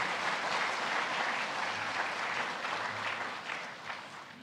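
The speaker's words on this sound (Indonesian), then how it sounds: "Kita berikan tepuk tangan sebagai tanda dukungan kita." Church congregation clapping together in a sustained, fairly soft burst of applause during a service, dense and even before gradually thinning out.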